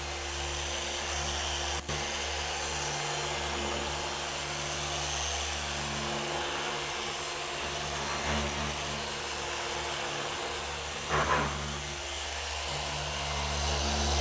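Rupes 15 polisher whirs steadily on car paint while applying Uno Protect, a constant close mechanical hum with a couple of brief bumps and shifts in tone.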